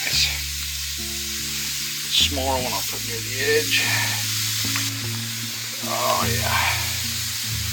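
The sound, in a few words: marinated venison backstrap sizzling over charcoal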